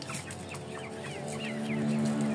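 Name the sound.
Indio Gigante and Shamo chickens clucking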